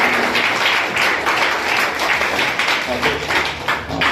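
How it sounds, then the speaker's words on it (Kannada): An audience at a literary lecture event claps together in a dense, sustained wash of applause that fills the room, with a voice faintly audible beneath it. "ಅವ್ರಿಗೂ ಕೂಡ ಜೋರಾದ ಚಪ್ಪಾಳೆಯೊಂದಿಗೆ ಧನ್ಯವಾದ"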